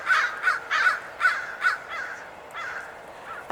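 Crows caw repeatedly in a park, with a Cooper's hawk perched in a nearby tree by an elementary school; loud, rhythmic bursts of harsh calls come in quick clusters, close and clear with no talk.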